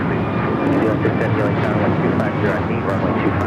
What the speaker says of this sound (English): This is United Airlines 2614 taking off to Houston Intercontinental on the MAX 9.